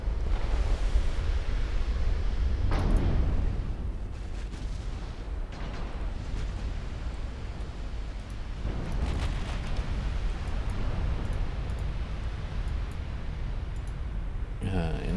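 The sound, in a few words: 19-inch naval gun fire in Ultimate Admiral Dreadnoughts video game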